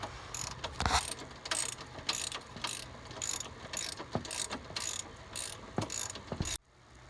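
A ratchet with a socket extension turning bolts on a 2013 Honda Recon ATV, quick bursts of close, loud clicking repeated about a dozen times, then stopping abruptly.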